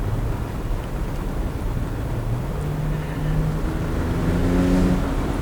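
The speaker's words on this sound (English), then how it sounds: "You definitely hear the engine" A 2019 Porsche 911 Targa 4 GTS with an 8-speed PDK transmission drives along, its engine droning low and steady with rising tones as it pulls, over continuous road and wind noise, no one talking.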